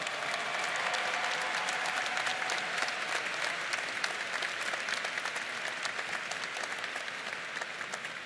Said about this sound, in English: How about we give them a large round of applause as well?